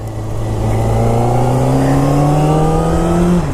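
A sport bike motorcycle with about 545 miles on it warms up, its engine droning steadily and loudly up close, the pitch creeping slowly upward over a few seconds as the revs rise.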